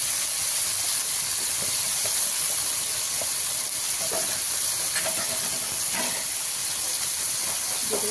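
A hot pan of tomato and spices hisses loudly and steadily as water goes in, a dense, continuous sizzle with faint pops scattered through it and no voices.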